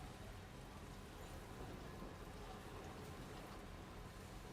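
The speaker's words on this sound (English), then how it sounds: "Because, like, I'm in the desert right now. Why is it raining?" Rain pours down over a desert landscape in the video game Death Stranding 2, a faint, even hiss of falling drops that continues unbroken with no distinct splashes or thunder.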